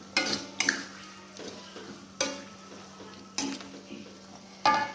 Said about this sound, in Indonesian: Terus ditumis ya, diulek ini, diaduk